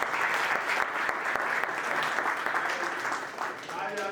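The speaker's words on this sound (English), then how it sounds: "So we should clap for her also." A crowd at an awards ceremony applauds, a thick, sustained roar of clapping that carries on evenly throughout, with voices mixed in beneath it.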